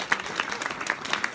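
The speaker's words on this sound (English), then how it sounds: "can we give our stars a round of applause?" Brief audience applause, light scattered clapping from a small group with uneven individual claps across a short burst.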